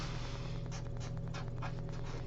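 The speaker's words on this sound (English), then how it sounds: "I'm going to write number 2 on here." A marker or pen writing a number onto a cardboard box, heard as a few short scratchy strokes, close and quiet, over a steady low background hum.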